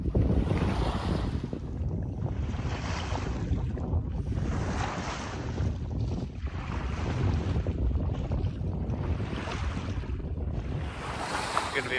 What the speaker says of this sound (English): Good to be back in the ocean swell,